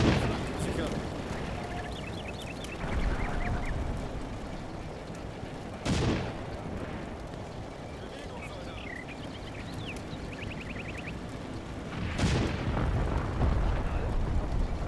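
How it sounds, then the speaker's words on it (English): A 50mm gun fires in the Combat Mission: Battle for the Bulge war game, two heavy booms about six seconds apart rising over a low, rumbling battlefield bed with faint distant crackle. "Who is shooting? It's like a 50mm right now."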